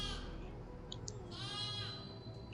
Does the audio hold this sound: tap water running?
no